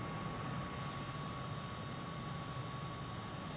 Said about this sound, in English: Could be the sounds of MiG-21